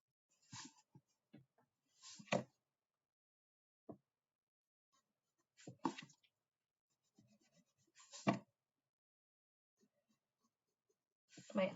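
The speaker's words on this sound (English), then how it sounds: "maybe erase a little bit of that" An eraser rubbing out pencil marks on a self-portrait drawing: quiet, close, scratchy rubbing strokes in short irregular bursts separated by silent pauses.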